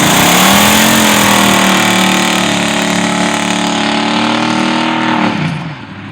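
A 1978 Chevy LUV truck with a 305 Chevy V8, Blazer rear end and four-speed automatic runs loud and close, a steady rich engine drone that holds for about five seconds before dropping away near the end.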